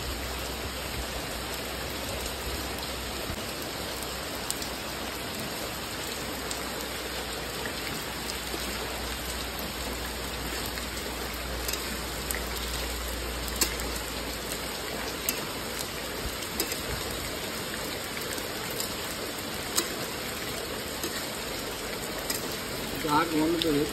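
Heavy monsoon rain pours steadily and close by, a dense, continuous hiss of drops with no breaks, holding an even loudness throughout.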